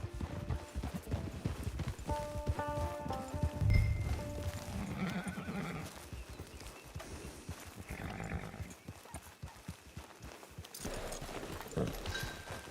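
In a video game, a horse whinnies and hooves clop along at a walking pace amid busy outdoor ambience and music, with occasional livestock-like calls.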